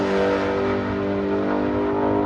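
A Hellcat-swapped Toyota Supra revs on a drag track, a loud, continuous engine roar that holds steady with no voices.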